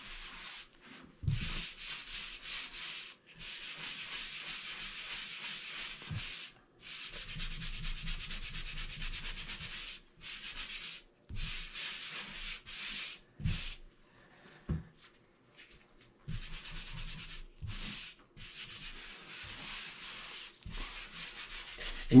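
Drywall is hand-sanded on a bathroom wall during a remodel, a steady raspy back-and-forth rubbing repeated in long strokes with brief pauses between passes, close and moderately loud.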